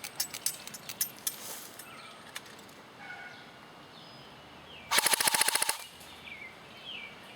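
A CYMA M4 CQB airsoft electric gun running on a 9.6 volt battery fires a rapid full-auto burst of about a second, loud and close, after a few scattered single shots, with faint birdsong in the background.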